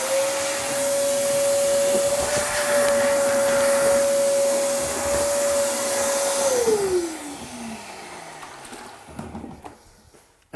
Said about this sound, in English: And then you're going to want to vacuum.